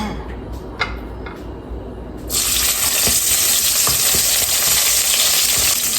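Shallots hit hot oil in a home kitchen and start a loud, steady sizzle after a couple of seconds of quiet clinks, then keep crackling with occasional stirring taps.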